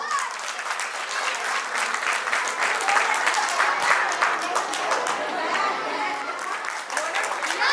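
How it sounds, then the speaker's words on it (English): An audience at a preschool annual day applauds, dense sustained clapping that stays loud and even for several seconds, with some crowd chatter mixed in. "Huge round of applause."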